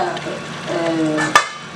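A pot of Tamil thatta payaru (cowpea) sambar with tomatoes bubbles and simmers close by, with a soft stirring sound and a single sharp clink of metal near the end.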